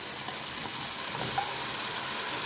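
Tomato pieces fry with ginger and garlic in a pan of mutton cooked with soy sauce, giving a steady, close sizzle with no voices.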